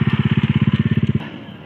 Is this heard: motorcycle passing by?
yes